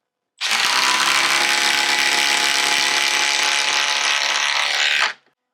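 A 12-volt impact driver sinks a six-inch TimberLok screw into wood, one continuous loud, rattling hammering buzz lasting about five seconds before stopping abruptly, close up.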